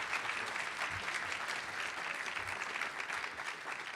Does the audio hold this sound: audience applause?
yes